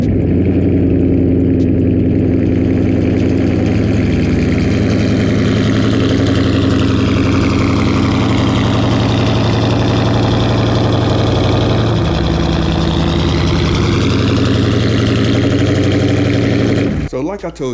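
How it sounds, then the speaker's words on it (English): Car engine starting cold and then settling into a steady, loud idle that runs on with an even low rumble before cutting off near the end. "let's go ahead and get that good old cold start for you"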